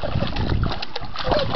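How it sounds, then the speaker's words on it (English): Water splashes and sloshes in an outdoor pool, with several close, irregular splashes and churning, some brief voice sounds mixed in. "Splash, splash, splash."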